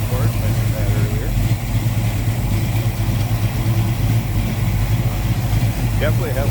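A 1970 Dodge Dart Swinger V8 with Edelbrock aluminum heads and a mild cam idles with a deep, steady low rumble, close and continuous, while someone talks over it.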